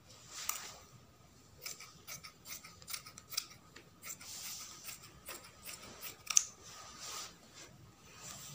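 Scissors cut through fabric for a draped skirt pattern, giving repeated crisp snips and rasping slides of the blades over several seconds, close and fairly quiet, with no talking.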